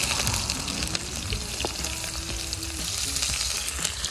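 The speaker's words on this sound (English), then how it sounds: "The onion going in the pot now." Onion fries in a curry pot for iguana curry, with a close, continuous crackling sizzle and a few light clinks and stirring sounds, no voices.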